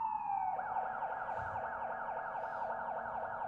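An emergency vehicle siren wails steadily at moderate distance. It shifts from a falling tone into a fast repeating up-and-down yelp that keeps going, with no voices.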